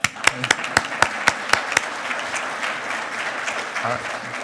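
Graduating class of 2019 at a spring master's hooding ceremony applauding, beginning with a few loud separate claps that blend into a steady wash of crowd clapping, with faint voices under it.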